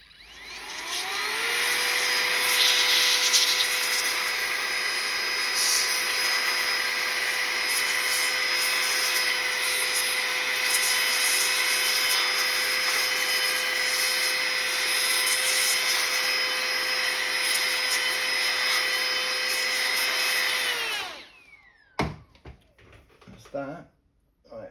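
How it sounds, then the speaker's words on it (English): Air blower drying out a MacBook Pro 2015 during a battery replacement, a loud steady rushing whoosh held for about twenty seconds, close by, then cutting off into quiet handling noises. "let's give it a little bit of a blow just to make sure it dries out."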